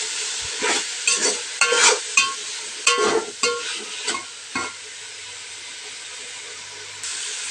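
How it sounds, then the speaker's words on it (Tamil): A spatula stirs chopped coriander and mint through masala sizzling in hot oil, giving a run of rhythmic scraping strokes over steady frying hiss that settles to a quieter sizzle, loud and close, with no voices. "கலந்துட்டு நல்லா வதக்கிக்கலாம்."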